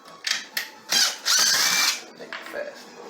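A power drill unscrews screws in a series of short, close bursts of high whirring whine, with a longer run in the middle and softer clicks and spins toward the end.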